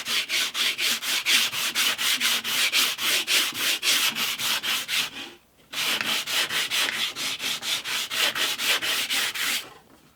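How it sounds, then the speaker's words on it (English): Rapid, rhythmic scratching strokes of hand sanding on willow guitar linings, steady and close, in two long runs separated by a short pause. "so I'm just going to give them a quick sand, I think."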